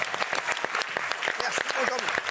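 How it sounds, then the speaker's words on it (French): An audience in a French TV studio claps steadily for a guest, dense and fairly close, with a voice talking over the clapping. "Applaudissements pour lui."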